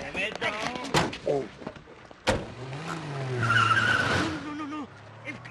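A car speeds away with its tires skidding and squealing. It is a loud, sustained screech that rises after a sharp bang, with excited voices shouting over it.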